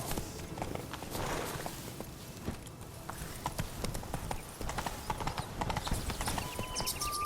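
Roach the horse walks along in The Witcher 3, its hooves clip-clopping in a steady, close rhythm over a busy ambient background with no talking.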